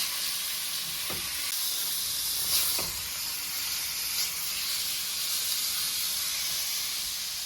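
Shrimp fry in portions in a hot pan, giving a loud, steady sizzle and hiss that runs unbroken, with a few brief clicks and scrapes of the pan along the way.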